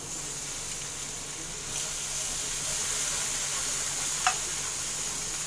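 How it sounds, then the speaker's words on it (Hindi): Butter sizzles in a hot pan, a steady, soft hiss with a high fizzing edge that holds evenly throughout, with a faint tick near the end and no talk. "पैन के उत्ते मक्खन लावांगे।"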